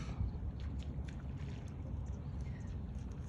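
An empty river barge heading for sand on the Dnipro passes in the evening, a faint low engine drone with water movement and wind buffeting the microphone.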